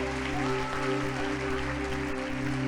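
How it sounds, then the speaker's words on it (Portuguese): Congregation applauding at an evangelical church service, steady dense clapping sustained throughout over a continuous low musical hum. "Se você crê, aplauda o Senhor Jesus"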